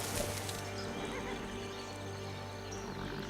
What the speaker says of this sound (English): Hey, look, more horses.